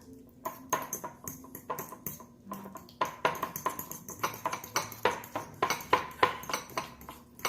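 Red food coloring being stirred into frosting in a bowl, a quick steady series of utensil clinks and scrapes against the bowl, close and fairly loud.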